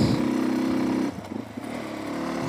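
A motorcycle engine labours in first gear while climbing a steep, winding mountain road to El Pital in El Salvador, a close steady drone that dips and stutters midway before steadying.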